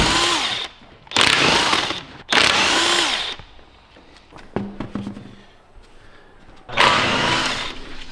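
A power tool working on car bolts, loud whirring bursts of a few seconds each at close range, separated by quieter clicks and handling noises.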